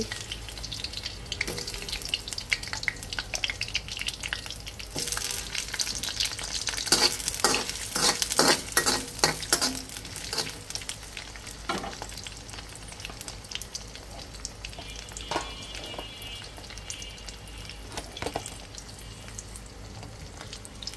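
Onion, chicken and mushroom fry in ghee in a pan while being stirred, a steady sizzle with scraping strokes that grow busier and louder in the middle stretch, then settle back to a constant frying hiss.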